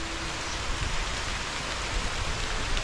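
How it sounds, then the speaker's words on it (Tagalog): Heavy rain pouring down outdoors on a banana farm, a dense continuous hiss of downpour that stays close, loud and steady with no voices. "Pero ngayon talaga di nakatiis. Bumuhos talaga."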